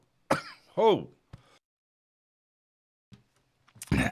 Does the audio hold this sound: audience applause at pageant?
no